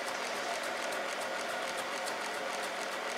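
A small homemade solenoid motor built from weed whacker parts running at low RPM, giving a faint, steady mechanical clicking and ratcheting with an even rhythm over a hissy background throughout.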